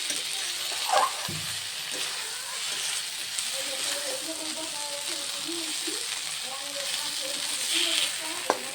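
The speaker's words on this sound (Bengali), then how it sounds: "এবার ভালো করে পাঁচ থেকে দশ মিনিট আমি কষিয়ে নেবো মশলা থেকে তেল ছেড়ে দিয়েছে" Spice masala sautéing in oil for a duck egg curry, a steady soft sizzle and hiss close by with occasional stirring scrapes and faint clinks, moderately quiet throughout.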